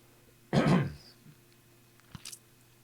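One short, rough throat clearing rings out clearly in a quiet room, followed by a few faint small noises.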